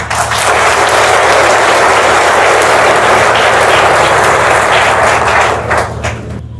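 Loud, dense applause from a crowd at a commemoration of the Gatumba tragedy anniversary, sustained and close, easing off slightly near the end.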